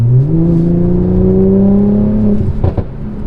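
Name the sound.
2016 Mercedes-Benz C450 AMG exhaust crackles and pops, hard acceleration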